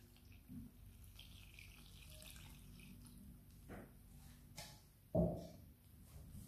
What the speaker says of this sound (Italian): E ora aggiungiamo tutta l'acqua.